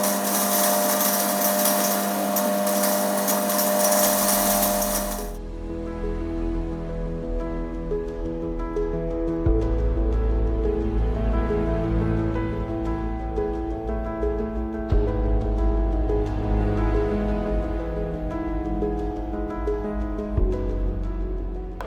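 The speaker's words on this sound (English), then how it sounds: "We are going to crush it in smaller particles" A machine crushes pre-cooked soya into smaller particles, starting with a loud, high whirring grind that gives way to a steady, lower mechanical hum and rumble, continuous and close.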